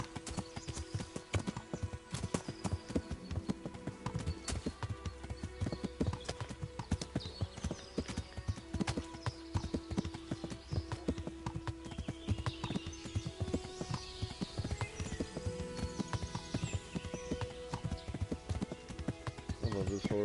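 Horse hooves clip-clop steadily and up close in the medieval game Kingdom Come: Deliverance, a continuous riding gait heard over game music and ambience, with a brief neigh and faint voices in the mix.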